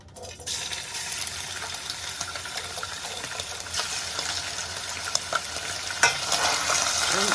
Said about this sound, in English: So we're gonna start off by cooking the bacon.